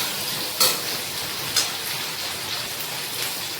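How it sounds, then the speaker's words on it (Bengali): Onions sizzle steadily in a pan with hot oil after a black cumin seed tempering, a continuous close, bright crackle with a couple of sharper pops. "দিয়ে পেঁয়াজটাকে আমি ভালো করে ভেজে নেব।"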